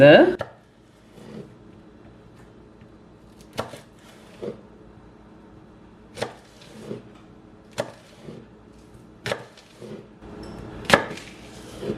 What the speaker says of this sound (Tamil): இதை வந்து நீங்கள் இப்படி கத்தியால் வந்து இப்படி கொத்தி வெட்டலாம்.